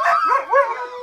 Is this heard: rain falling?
no